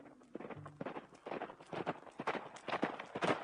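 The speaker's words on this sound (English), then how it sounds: "Whoa, horse, whoa!" A horse walks in a dramatized scene set in 1837 Southern US history, its hooves clip-clopping in an uneven, steady rhythm of close, distinct knocks over faint background sound.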